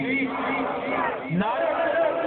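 At a Milad religious gathering in Basirpur, a large crowd chants back in loud, sustained unison, the massed voices swelling and dipping in a continuous wave.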